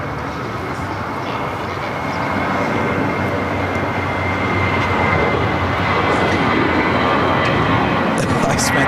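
A United Boeing 777 arriving at LAX from Newark: a loud, continuous jet engine roar that swells gradually as it approaches, with speech faintly audible under the noise.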